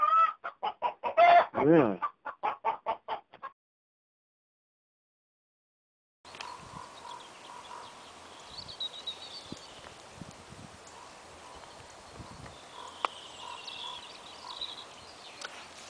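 A rooster clucks loudly and close in a short rhythmic burst of calls, alone. After a silent gap comes a steady outdoor background with faint distant bird calls.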